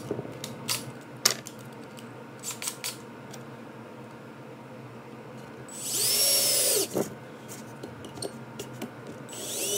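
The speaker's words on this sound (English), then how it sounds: "now I'll drill a hole in this" A power drill bores a hole in a wooden board for a watch display stand, one loud whirring burst of about a second amid quiet handling knocks and taps nearby.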